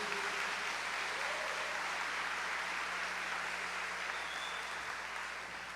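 A church congregation applauds during a Mass, a faint, continuous patter of many hands clapping in a large room, steady and unbroken with a low hum underneath.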